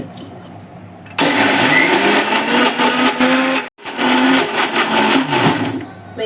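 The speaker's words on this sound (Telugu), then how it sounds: "వీటిని మిక్సీ వేసేసుకుందాం." A kitchen mixer grinder blends batter for pesarattu with a loud, steady whirring roar that starts suddenly, cuts out briefly and then resumes, close to the listener.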